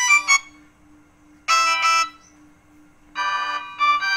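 A Vgo Tel S500 mobile phone ringtone plays in short melodic bursts separated by pauses, with a faint steady tone running underneath.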